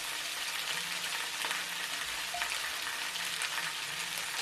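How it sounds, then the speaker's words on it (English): Floured beef sizzles and browns in a stew pot, a steady close crackle with a soft scrape of stirring partway through. "These are starting to brown already. So we'll give them a little stir."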